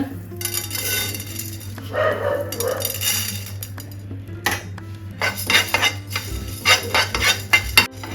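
Coriander seeds and spices are dry-roasted in a pan for puliyogare gojju, with repeated scraping and clattering stirs in uneven bursts over a steady low background hum.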